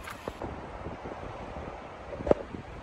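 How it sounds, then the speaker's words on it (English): Wind buffets an iPhone microphone outdoors near a beach, a steady low rumble with one brief sharp knock near the end, no voices. "she's starting to get a wee bit windy, just using the iPhone"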